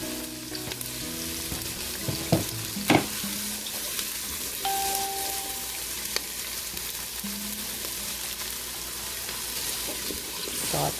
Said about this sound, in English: Saute them up really good. Into the coconut oil.